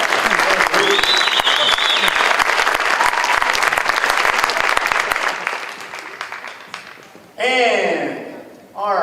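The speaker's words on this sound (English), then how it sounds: "Round of applause for Luke" An audience at a county promenade applauds for a young man named Luke, loud clapping that fades out over several seconds before a voice begins talking over the room.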